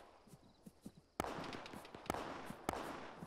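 Gunfire in the military shooter Arma 3, a few sharp distant shots cracking over a rumbling battlefield background, with soft thumps before them.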